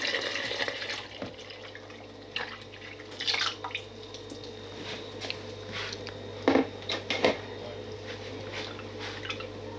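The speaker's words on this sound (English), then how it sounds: "We can add the milk straight into this." Milk poured into a pot of half-cooked rice for kheer, a soft steady liquid pour with faint drips and splashes, quiet and close.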